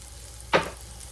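Chopped sweet yellow onion being stirred into hot oil in a pan, one short scraping sizzle burst near the middle against a quiet background hiss.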